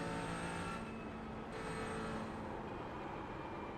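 A GT4 race car brakes hard at Le Mans in the iRacing game, giving a continuous loud engine and road roar that drops slightly in pitch partway through, with no voices.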